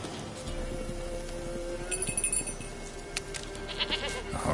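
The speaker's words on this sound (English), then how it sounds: "Here, goat." A goat bleats in The Witcher 3, giving a few short nasal calls in the second half over ambient game background, with faint clinking and no speech during the calls.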